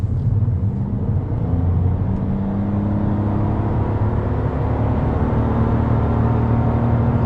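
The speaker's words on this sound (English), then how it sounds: "This will give you some idea how well it accelerates." A 2020 Toyota Yaris accelerating, its engine a steady, loud low drone that holds a constant level throughout, heard from inside the car with no talking.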